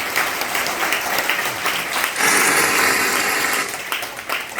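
Loud crowd applause at a Tiens business opportunity meeting in Meerut, dense continuous clapping that swells midway and then thins out toward the end.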